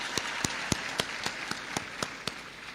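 Audience applause at a World AIDS Day event at Kibabii University: a crowd claps steadily with a few sharper individual claps, moderately loud and fairly close, with no talking over it.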